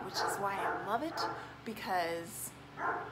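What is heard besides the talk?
dog barking at passers-by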